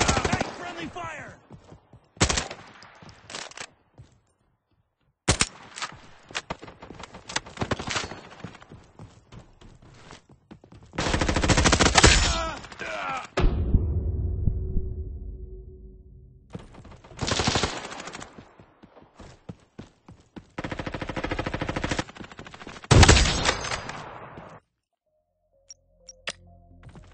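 Repeated bursts of automatic gunfire in a Roblox shooting game, loud and close, broken by short pauses between volleys, with occasional speech-like game sounds in the mix.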